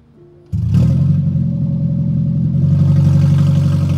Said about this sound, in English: Removing the catalytic converter makes your car louder.